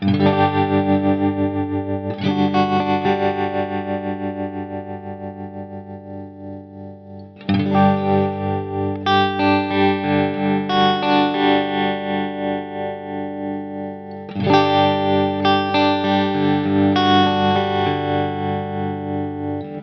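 An electric guitar through a Line 6 Helix tremolo set to a sine wave, sustained chords pulsing in a smooth, steady rhythmic swell, loud and close, with three strummed chords each left ringing.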